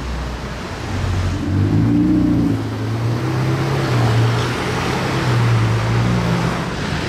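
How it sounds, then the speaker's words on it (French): A Ferrari 488 Pista passes by outdoors, its engine note a steady low drone that swells to a peak midway and lingers, with broadband road or wind noise throughout and no voices. "Et on enchaîne sur une 488 Pista."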